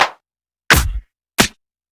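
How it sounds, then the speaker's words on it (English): Three separate clap hits are auditioned for a melodic house track, each a sharp, dry electronic clap, played alone and close with short gaps between them. "I'm going to find another clap to put in there."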